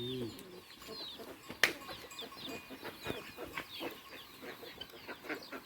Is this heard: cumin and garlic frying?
no